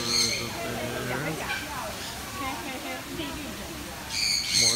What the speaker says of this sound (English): We got some different varieties of birds up there.